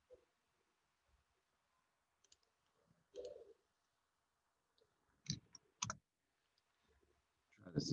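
A computer mouse clicks during a programming session: a handful of sharp, isolated clicks spaced a second or so apart, close and fairly quiet, with faint room noise between them.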